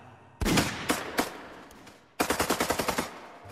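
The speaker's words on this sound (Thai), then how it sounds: "ผู้คุมเรือทั้งสองลำต่างก็พากันยิงปืนไล่" Guards on two boats fire guns in a dramatised sound effect: a loud opening blast with a few scattered shots, then after a pause a fast, evenly spaced burst of automatic fire, close and sharp.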